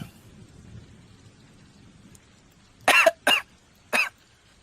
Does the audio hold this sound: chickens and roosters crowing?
no